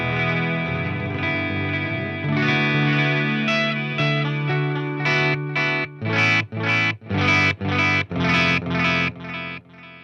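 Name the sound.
digital delay on Walrus Audio Mako D1 guitar pedal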